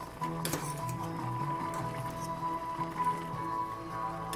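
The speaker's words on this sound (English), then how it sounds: "Just stir." Instant noodles are stirred in a pot, with soft wet squishing and occasional clinks of a utensil over a steady cooking hum and a faint tone.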